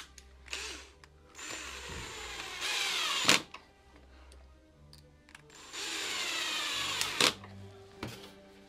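Power drill driving screws into wooden boards while joining them with a Wolfcraft hidden-joint set: two sustained bursts of rising motor whine, each ending in a sharp clack, with quieter handling between.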